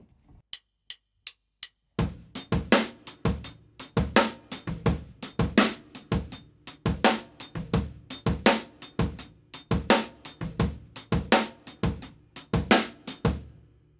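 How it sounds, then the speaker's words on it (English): A drum kit groove pattern: a few sharp hi-hat ticks, then a steady full-kit beat with punchy added bass drums and snare hits in a regular repeating rhythm, close and loud, no talking. "The next step is we're going to add in our bass drums."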